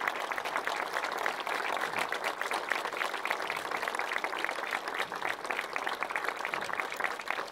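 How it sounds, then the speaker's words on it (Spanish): Steady crowd applause fills the whole stretch, dense clapping from many hands at a gathering of mothers in a plaza, even and sustained without pause. "Así que pido un aplauso para ella"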